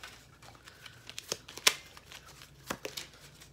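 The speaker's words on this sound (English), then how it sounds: "I'm gonna shuffle these again." A deck of playing cards is shuffled close up, soft riffles and sharp flicks in short irregular bursts, quiet and alone without talking.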